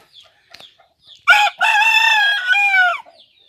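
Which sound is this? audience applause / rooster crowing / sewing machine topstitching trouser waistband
rooster crowing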